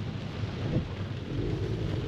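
Steady, dense rain hiss with low rumbling underneath, continuous and fairly close, with no voices, falling at the 2023 Klassikstadt Frankfurt season-closing classic car event.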